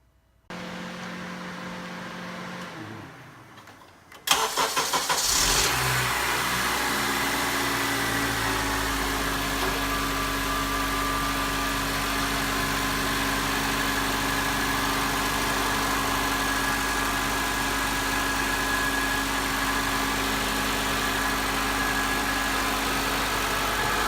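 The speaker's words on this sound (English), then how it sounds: "After I connect these, we'll start it and see just how good my rebuild did." A 2006 Honda Accord with a freshly rebuilt starter cranks briefly, then the engine catches and settles into a steady, even idle that runs on without a break, with no voices.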